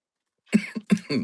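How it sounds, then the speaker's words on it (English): A few harsh, close coughs in quick succession, with brief pauses between the bursts. "I've got this cough, guys. I'm coughing to death."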